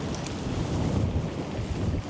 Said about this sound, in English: it's way windier than they forecast